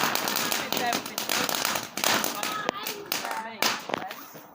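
A small firework rocket on bonfire night, sharp crackling pops and bangs scattered through the clip amid people talking and exclaiming nearby.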